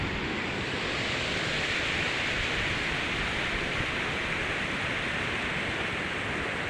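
Steady, loud rush of the Sani river's flowing water, a continuous broadband roar heard up close, with no voices over it.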